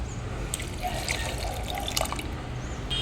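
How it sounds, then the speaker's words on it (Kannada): Buttermilk being poured onto washed beaten rice (poha) in a bowl for dosa batter, a steady close liquid trickle and splash lasting throughout, with small drips on top. "ಇದಕ್ಕೆ ಎರಡು ಲೋಟೆ ಮಜ್ಜಿಗೆಯನ್ನು ಹಾಕಿ"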